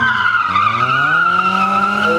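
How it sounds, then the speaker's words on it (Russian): A car slides through a tight turn using a hydraulic handbrake in a speed-maneuvering competition, its tires giving one loud, sustained squeal for about two seconds with no talk over it. "Здесь хорошо разворачивается автомобиль, четко выходит на заданную траекторию Михаил."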